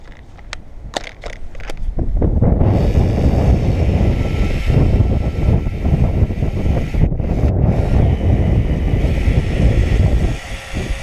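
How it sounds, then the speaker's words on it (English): Strong wind roars and buffets the microphone almost nonstop after a few sharp clacks at the start, loud and close. "It's windy"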